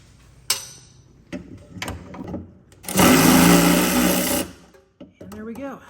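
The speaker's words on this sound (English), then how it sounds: "Milwaukee ratchets for the win." Milwaukee power ratchet removing transmission bolts on a Porsche Boxster 986: a loud whirring burst of about one and a half seconds, preceded by scattered clicks and clanks of metal tools, with a short voice near the end.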